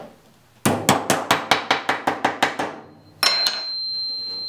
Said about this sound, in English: we've just tapped that corner flat with the hammer